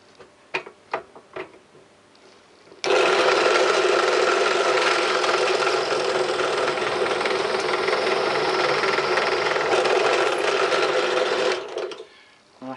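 An electric drill whirs steadily for about nine seconds, close and loud, as it bores out the governor shaft taper pin on a Lister D engine, with a few taps and knocks of handling before it starts and after it stops.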